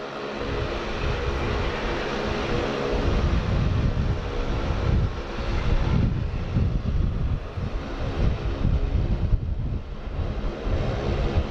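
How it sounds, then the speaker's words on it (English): A Qantas airliner taking off at Sydney Airport, a continuous broad jet roar heard from a distance, steady and strong, with some wind buffeting on the microphone. "Qantas Sync taking off now."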